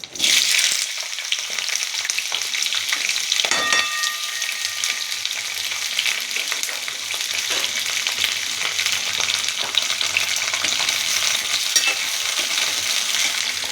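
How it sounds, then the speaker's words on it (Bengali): Pieces of capsicum hit hot oil with a loud initial burst, then settle into a dense, steady sizzle close by, broken by a brief stirring scrape around the middle. "আমি তেলে ক্যাপসিকামটা ছেড়ে দিচ্ছি।"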